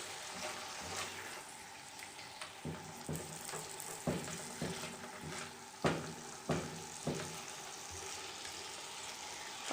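Chicken livers sizzle steadily in a hot pan while being flipped, with a series of sharp clicks and scrapes from turning them breaking through the continuous frying hiss.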